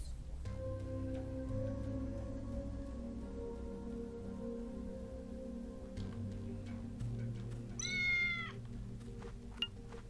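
A cat meows in the video game Tales of the Neon Sea: one short, fairly clear call rises over a soft humming game ambience, otherwise quiet, with no speech.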